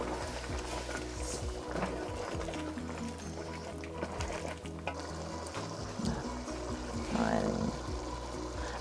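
Water poured into a simmering pot of Nigerian bitter leaf egusi soup, giving a steady liquid pour with light splashing and stirring against a busy kitchen background.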